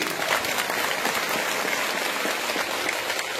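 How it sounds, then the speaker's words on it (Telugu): A crowd at a Maha Shivaratri festival celebration in Srisailam claps together in a sustained, dense burst of applause that stays loud and even throughout. "అందరూ ఒక్కసారి గట్టిగా చప్పట్లు కొట్టండి"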